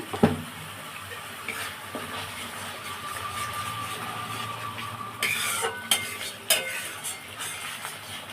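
Mushroom curry gravy bubbling steadily in a pan with a soft continuous simmer, punctuated by a few louder clinks and scrapes of a utensil against the metal toward the end.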